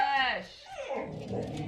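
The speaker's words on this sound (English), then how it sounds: "oh, that's a dog." Nearby, a dog lets out a short, high whimpering yelp that slides downward, then a lower, softer whine, brief and fairly close within an indoor room.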